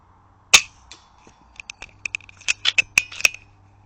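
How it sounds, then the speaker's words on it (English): Rifle being cocked outdoors, heard as a sharp metallic snap followed by a quick run of small clicks and clacks, close and clear with no talking. "It would help if I cocked the rifle."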